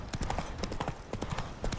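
Roach, a horse in The Witcher 3 Blood and Wine, gallops with rapid, steady clip-clop hoofbeats, close and loud, running through the whole short burst.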